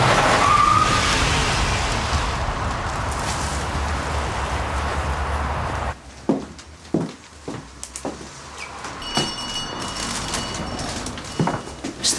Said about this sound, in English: put your foot down and drive, drive,